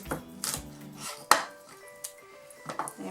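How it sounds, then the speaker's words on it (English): A knife chops a vegetable finely on a board, using a claw grip, while lasagne ingredients are prepared. Crisp, close taps and thuds land in uneven bursts. "then using the claw, very much like the celery, I'm going to cut nice thin"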